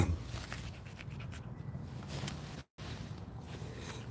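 A pet dog rests on its owner's lap, breathing in steady, rapid pants close by, with soft low rustling underneath and a brief dropout partway through.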